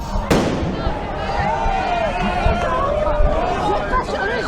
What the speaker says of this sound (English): Antifa's lighting off fireworks.